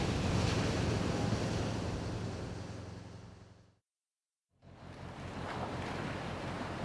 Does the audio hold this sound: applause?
no